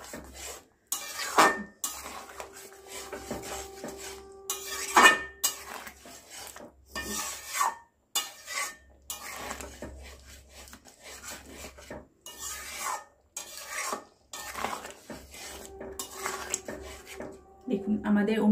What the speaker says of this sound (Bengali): এটা একটু হালকা নাড়াচাড়া করে নেব আমরা